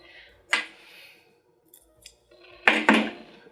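Scissors snip through dress fabric in a quiet room, one sharp cut early and then two quick close cuts near the end, with faint handling rustle between.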